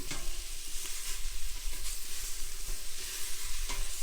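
Vegetables for a seafood gumbo cook in a pot, sizzling steadily while a spoon scrapes and stirs through them, with a few sharp knocks against the pot's side. The sizzle is fairly loud and close, and no one talks.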